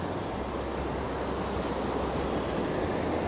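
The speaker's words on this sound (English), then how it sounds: "I moved closer to the waterfall, as you can tell, probably by the sound" Hooker Falls in DuPont State Forest rushes in a steady, broadband roar of falling water, heard from close by with no voices and no breaks.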